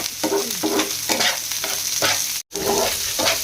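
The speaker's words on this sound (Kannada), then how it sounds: "ಬೆಳ್ಳುಳ್ಳಿ ಆಮೇಲೆ ಕ್ಯಾಬೇಜ್ ಅದನ್ನು ಇವಾಗ ಎಣ್ಣೆದೊಳಗೆ ಇದು ಫ್ರೈ ಮಾಡ್ಕೊಳ್ಳೋಂತ ಮೆತ್ತಗಾಗ್ಬೇಕು" Garlic and cabbage fry in hot oil in a pan, a continuous close sizzle broken by repeated scraping strokes of a spoon stirring, with one brief dropout partway through.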